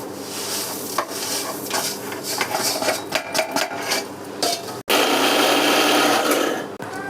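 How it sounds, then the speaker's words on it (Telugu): A kitchen mixer grinder grinding sesame seeds for a peanut and almond laddu, a loud close motor whir with rattling grains, briefly stopping and restarting before running steadily again. "ఇప్పుడు నువ్వులు పట్టుకుందాం."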